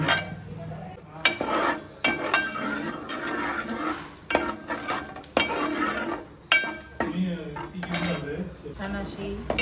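A spoon clatters and scrapes against a metal pan while stirring a tempering of tomato, turmeric and a little water, giving repeated sharp clinks and knocks up close, with no talking.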